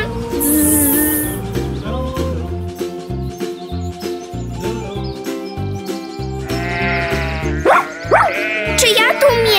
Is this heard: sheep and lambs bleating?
yes